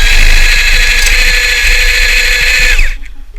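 Power drill with a self-feed bit boring through a wooden beam, a loud close grinding whir that holds steady, then winds down and stops near the end.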